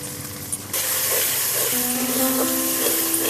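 Chili powder, Kashmiri chili powder and turmeric hit hot oil in a pan and set off a sudden loud, steady sizzling hiss close by that holds to the end.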